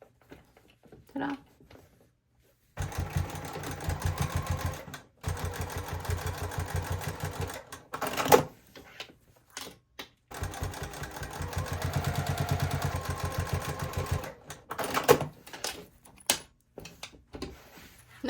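A sewing machine stitches in two long, steady runs with a brief stop between, close and moderately loud, surrounded by softer handling knocks and clicks before and after.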